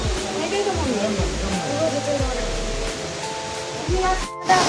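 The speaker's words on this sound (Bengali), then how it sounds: "মন্দিরের পিছন দিকে ঝর্ণা" A waterfall behind a temple roars as a steady, broad rush of falling water, with people talking over it throughout the clip.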